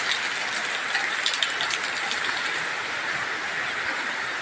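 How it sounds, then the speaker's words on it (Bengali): Heavy rain pours outdoors over a waterlogged school field in a dense, unbroken hiss. It stays at an even level throughout, with no voices. "এই যে প্রচুর বৃষ্টি নামতেছে"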